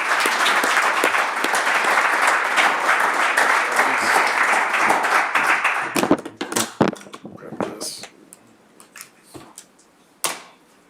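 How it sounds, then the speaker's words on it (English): An audience gives a round of applause at the close of an architecture session, dense clapping for about six seconds that thins to scattered, isolated claps and fades out. "round of applause"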